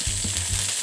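Whiskey burgers sizzle steadily in a frying pan, a dense close crackle of frying fat with faint stirring or shifting, heard alone in a short burst.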